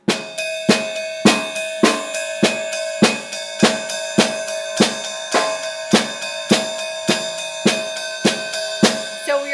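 Drum struck in an even eighth-note rhythm, a steady run of evenly spaced, crisp hits with short decays, played alone and at a constant loudness.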